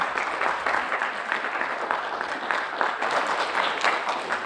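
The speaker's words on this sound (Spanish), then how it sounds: "Vamos a recibirla con un aplauso" A crowd applauds steadily at a gathering of Andean indigenous peoples, dense clapping filling the room for several seconds without a pause.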